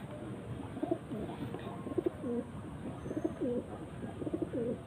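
Soft, repeated cooing of a high-flying pigeon in a low rolling rhythm, several coos in a row over a steady background hiss.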